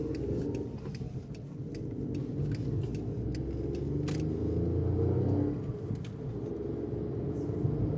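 A cheap old car drives slowly, its engine a low, steady rumble with road noise that barely changes over several seconds.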